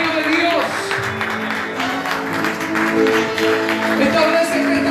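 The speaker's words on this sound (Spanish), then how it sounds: "Recíbale con un buen aplauso esta tarde" A church congregation applauds at an evening service, clapping mixed with a few shouts and voices over a sustained tonal backdrop, moderately loud and continuous.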